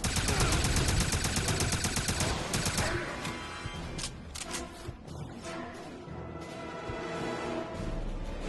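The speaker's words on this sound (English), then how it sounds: "Go ahead and shoot him right in the face." Rapid gunfire in the 2009 shooter game Wolfenstein, a loud burst of dense shots for about three seconds, then scattered single shots and impacts over game sounds and music.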